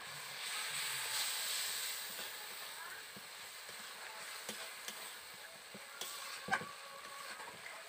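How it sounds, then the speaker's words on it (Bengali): A steady, soft hiss of mustard and cumin paste frying in a spice mixture for village-style pumpkin greens, with occasional faint clicks and pops rising over the sizzle. "এবার দিয়ে দেব সর্ষে আর জিরে বাটা।"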